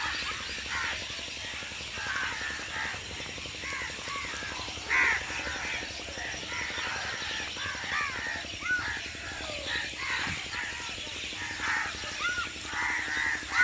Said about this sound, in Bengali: তার চেয়ে কথা না বলাই ভালো, একটু পাখির আওয়াজই শোনো।